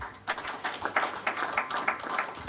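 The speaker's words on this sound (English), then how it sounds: "Once again, a round of applause for our panel." An audience at a launch event for an assessment of local government public accounts committees claps for a panel, a scattered run of fairly quiet, uneven hand claps.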